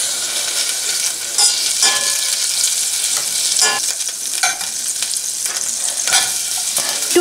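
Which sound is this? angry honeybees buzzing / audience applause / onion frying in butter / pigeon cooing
onion frying in butter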